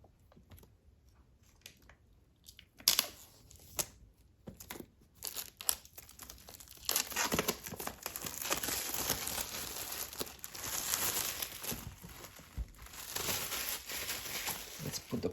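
A 2022 5th-generation iPad Air is unboxed, with sparse taps and light knocks at first, then sustained close crinkling and rustling of plastic packaging being handled and peeled away.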